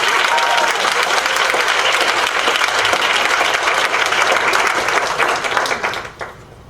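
Dense, steady applause fills a school board meeting room for students who won first place in a recycling competition, holding strong for about six seconds before tapering off at the end.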